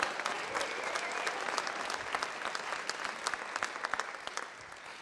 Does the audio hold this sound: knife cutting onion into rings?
no